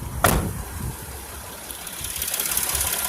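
A 2013 Mercedes-Benz Sprinter 2500 high-top cargo van's diesel engine idles with a steady low rumble, preceded by a brief sharp knock or clatter near the start.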